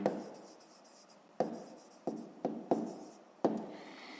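Pen writing by hand on paper while working a grade 5 math exercise, a soft continuous scratching with several sharper strokes and taps spaced through the passage, close and alone with no talk.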